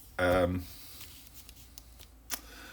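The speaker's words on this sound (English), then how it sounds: "So we shuffle the 6 E1 discovery tiles over here" Board game discovery tiles from SpaceCorp shuffle face down on a table with soft scattered clicks and slides, quiet and close, after a brief spoken word at the start.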